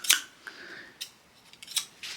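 Scissors snip and clack several times in quick, uneven bursts, close and crisp, with nobody talking.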